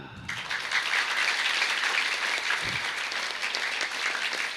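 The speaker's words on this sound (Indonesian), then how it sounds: "Tepuk tangan." Audience applause at a Quran recitation completion ceremony at an Islamic boarding school, loud, even clapping that starts abruptly and carries on steadily to the end.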